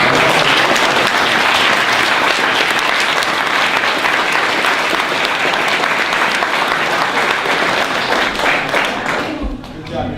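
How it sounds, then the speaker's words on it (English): Loud, sustained crowd applause at the 2014 San Diego Mayor's Cyber Cup awards presentation runs for about ten seconds with thick overlapping claps and some cheering voices, easing slightly at the very end. "Round of applause, guys, come on."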